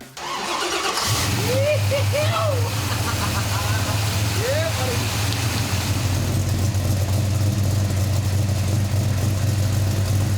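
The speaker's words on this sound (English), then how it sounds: "We added some fuel and cranked the engine" A newly built car engine cranks and catches on its first start, then settles into a steady, loud idle that drones on to the end, with a few whining tones early on.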